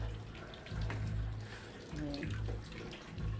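Tap water runs steadily into a sink while plates, glasses and spoons are washed at home, a continuous close splashing rush, with a short spoken word over it.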